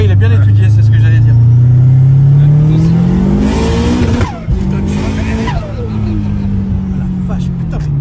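A smooth-running car accelerates hard, its engine note climbing steadily and loudly from inside the cabin, then shifting and pulling again, with people talking over it.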